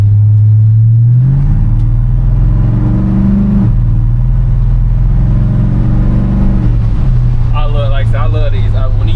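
A 1986 Chevy C10 truck with an LS swap engine revs up from a deep idle into a sustained higher drone, then drops back, with someone talking loudly over it toward the end.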